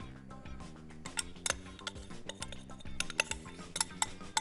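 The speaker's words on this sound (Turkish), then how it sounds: "Bir kaşık yardımıyla bisküvili harcımı yavaş yavaş kelepçeli kalıbıma döküyorum." Close, faint spoon clinks and scrapes against a metal springform cake pan as biscuit crumb mixture goes in, a fast irregular series of small taps and ticks.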